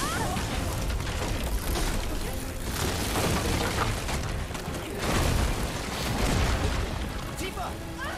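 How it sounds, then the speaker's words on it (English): Lightning strikes a bridge in Final Fantasy VII Rebirth: loud booming crashes roll through a dense, noisy roar, swelling sharply about two-thirds of the way through, with voices mixed in. "Oh, that's right, it gets struck by lightning."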